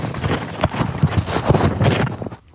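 Hooves of a strong grey mare clip-clop steadily on a winter trail ride near Jaipur, Rajasthan, in a close, quick, even rhythm that fades out at the end.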